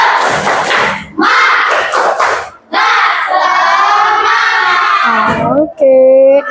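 A class of fifth-grade children perform the tepuk semangat spirit clap, with loud shouted chanting in bursts and thumping claps from close by, ending on a sustained group call.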